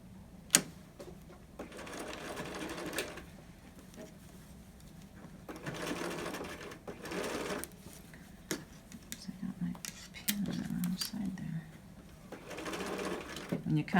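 A sewing machine stitches around a 1/4-inch seam of a large adult fabric mask in several short bursts of steady whirring, quiet and close, with a person talking between and over the runs.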